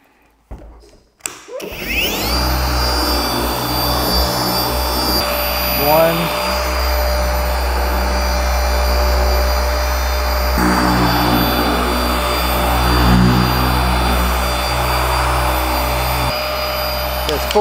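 A Rupes HLR21 battery polisher runs continuously on a BMW X5 hood, a loud steady motorized whir with a low hum and high whine, starting after a brief clatter and holding for over fifteen seconds.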